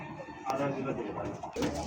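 Indian Lotan pigeons give low cooing calls nearby, quiet murmurs in two short bursts under a voice.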